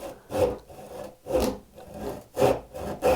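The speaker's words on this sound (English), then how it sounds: "keeping the saw in control to keep it close to that line" A hand saw cutting wood for a half lap joint, with slow rhythmic rasping strokes about once a second, close and clear, with no talking.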